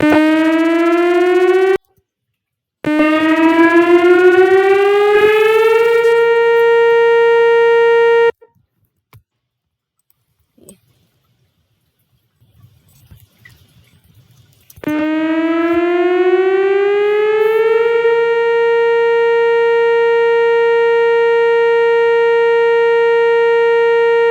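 A synthesized Whelen siren tone rises in pitch and then holds steady, cuts out into near silence, then sweeps up again and sustains loudly.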